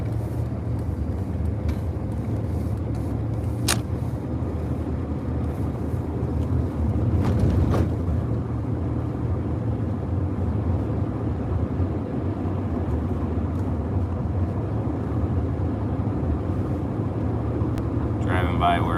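A car drives along past a parking lot, its engine and road rumble a steady low drone with wind noise, heard from inside, with occasional faint clicks and no break in the sound.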